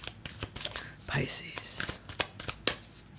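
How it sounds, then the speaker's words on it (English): Tarot cards are shuffled in quick papery riffles and bursts while a voice talks softly over them. "Let's get a quick shuffle."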